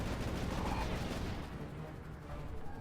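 Rapid gunfire in the Sly Cooper 2 video game crackles as a dense, loud burst that thins out midway and then swells again.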